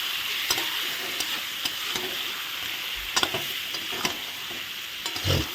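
Chicken pieces frying with tomato and onion in a pan, a steady close sizzle broken by repeated spatula knocks and scrapes against the pot, with no talking.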